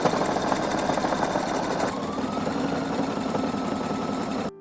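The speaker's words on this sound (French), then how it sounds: "Pour coudre, comme je vous ai dit, on met le point zigzag." Sewing machine running a zigzag stitch on fabric, a fast steady mechanical whir and needle patter, close and continuous, with a slight pitch change midway.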